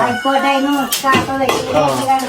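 Metal pots and vessels clank and clatter close by in a kitchen while cooking mussels, with several sharp knocks over overlapping talk.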